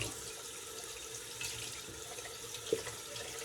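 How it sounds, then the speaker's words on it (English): A shaving brush being rinsed under a running tap, with a steady close rush of water and one brief splash near the end. "we'll rinse out our brush"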